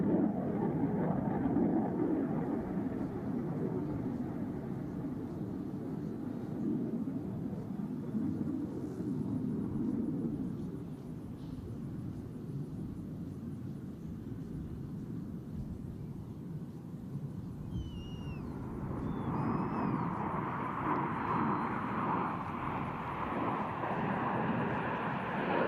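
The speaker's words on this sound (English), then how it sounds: "Ladies and gentlemen, the Blue Angel changeover roll." Blue Angels jets performing at the NAS Oceana air show, a broad roaring engine rumble that fades to a lower wash midway and then surges louder again as the formation passes.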